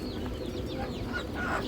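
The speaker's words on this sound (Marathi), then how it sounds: "हा झाला आपला प्युअर गावरानी कोंबडा, प्युअर देसी" A pure desi village rooster on a Nagpur poultry farm clucks among other birds, with faint chirps and calls over a steady busy background of fowl.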